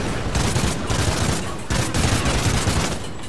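Sustained, loud gunfire in Call of Duty: Ghosts on Xbox One: overlapping bursts of rapid shots roll on continuously with a few sharper cracks, filling the whole stretch without a break.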